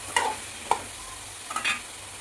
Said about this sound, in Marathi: आणि आता ह्याच्यामध्ये टाकायचा आहे हा दुधी भोपळा. आपल्याला चांगलं मिक्स करून घ्यायचं आहे.